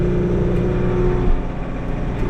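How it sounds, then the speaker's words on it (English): A Toolcat utility vehicle engine idles steadily nearby, giving a continuous low rumble with a slight dip in level partway through. "I might run this toolcat down first"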